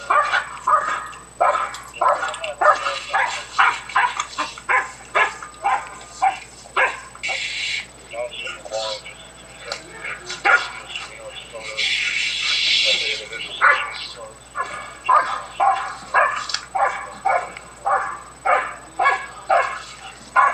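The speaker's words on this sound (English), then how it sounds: "What all that barking gonna do? What you barking for?" A dog barks repeatedly in short rhythmic bursts, with yips and whimpers mixed in, while someone talks over it nearby.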